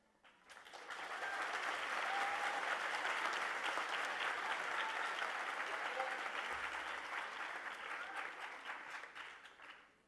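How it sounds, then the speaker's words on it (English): An audience at a senior graduation ceremony at an international school breaks into sustained applause, a dense, even clatter of many hands that swells quickly, holds steady for several seconds, then tapers off. "Please hold all applause."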